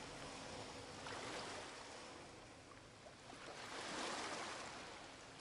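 Ocean waves surging and washing in a steady broadband roar that swells around the middle and again near the end, with no voices over it.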